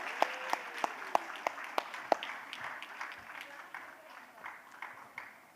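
A louder round of audience applause at a summit as a guest takes the stage, opening with several sharp, prominent claps in rhythm before settling into a thinner, scattered patter, with cheering voices underneath.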